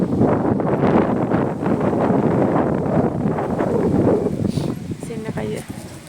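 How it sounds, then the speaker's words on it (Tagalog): Strong wind buffets the microphone in a steady, loud roar at an outdoor park car park, with some rustling and a voice faintly underneath. "Ang lakas ng hangin, napakalamig"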